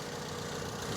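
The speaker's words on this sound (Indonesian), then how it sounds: "Dan ini suara mesinnya" Toyota Yaris E 2010 with a 1500cc four-cylinder VVTi engine idling, a steady low hum with an even mechanical drone and no break over a brief moment.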